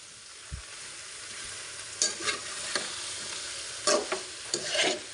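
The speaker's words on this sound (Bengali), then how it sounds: "সরিষা বাটা দিয়ে আবারও নেড়ে চেড়ে নিব" Hog plum pickle being stirred with mustard paste: a few separate scraping strokes of a spoon against the pot come through clearly over a low, steady background hiss, with no talking.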